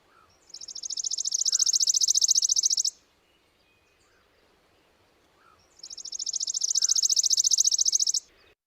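Two bursts of a worm-eating warbler's song, a thin, dry, insect-like trill held for a couple of seconds each, separated by a quiet pause, fairly close and clear.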